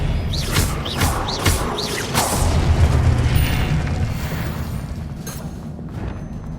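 Spell-casting effects from the Hogwarts Legacy video game, with Expelliarmus and other spells going off: a run of sharp whooshing, rising zaps over a low booming rumble, fairly loud and dense, then thinning out.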